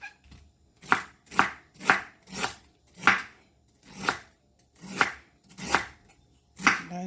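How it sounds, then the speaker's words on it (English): Knife chopping cabbage on a cutting board while making stir-fried cabbage, nine crisp, evenly spaced chops in a steady rhythm, close and clear with no talking. "I'm just gonna go in, start chopping my cabbage."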